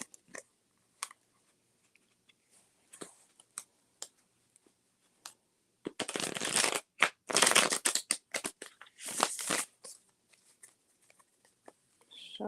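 Cards being shuffled by hand, with sparse soft clicks and taps at first, then dense bursts of riffling and flapping in the middle, close and fairly quiet.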